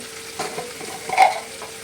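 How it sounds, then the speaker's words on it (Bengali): Spices with coriander powder and cumin are stirred in a hot pan, a short, close scraping and soft sizzle that swells briefly in the middle and lasts under two seconds. "দিয়ে এবার ভালোভাবে নাড়িয়ে নেব"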